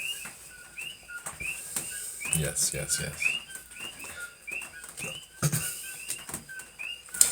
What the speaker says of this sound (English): Those are coqui frogs in the background. Neither birds nor crickets.